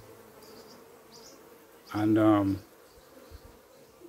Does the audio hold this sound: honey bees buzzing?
yes